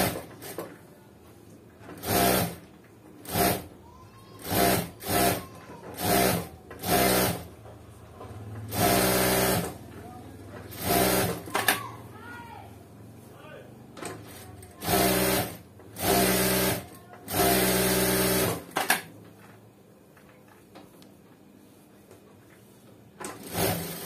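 A sewing machine stitches blouse sleeves in repeated short bursts, loud whirring runs separated by pauses, some longer runs near the middle, close up with no speech over it.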